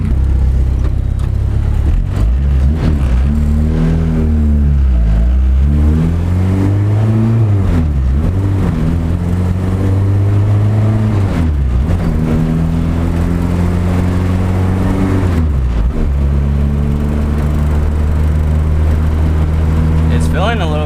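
A Honda Accord CB7 track car's engine revs repeatedly on a test drive. The loud engine drone climbs and falls in pitch several times, rising with throttle and dropping off when lifted, and stays continuous throughout.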